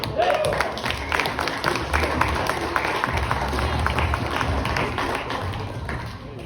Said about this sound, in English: put your hands together for AJ, everyone